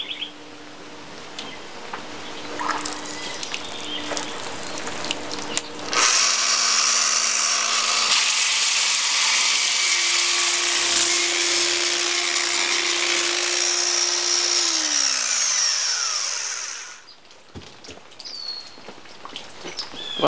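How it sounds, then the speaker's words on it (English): A power grinder works a concrete countertop, starting with a loud steady whine that runs for about eleven seconds before winding down, with quieter tool noise and faint chirps before and after. "So let's get started and do some grinding."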